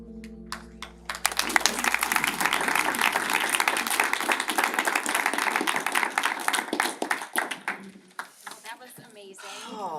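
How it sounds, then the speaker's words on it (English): Round of applause at a regular board meeting, a room of people clapping together loudly and steadily for several seconds before tapering off, with voices and cheering mixed in. "why don't y'all give each other a round of applause?"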